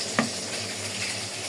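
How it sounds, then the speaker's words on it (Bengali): Fish fries in a karahi over a gas flame, giving a continuous close sizzle with a brief metallic clink of a utensil near the start. Nobody talks. "আস্তে করে মাছটা ভাজতে থাকি"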